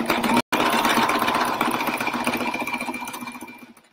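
Sewing machine stitching a pillow cover, a rapid steady mechanical whirr close up after a brief stop, slowing and fading toward the end, alone without voices.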